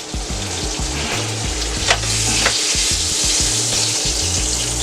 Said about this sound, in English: And now we're just going to add our pork loin.